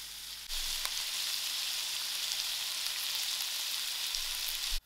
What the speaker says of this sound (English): I will allow the potatoes to fry out properly with the masala.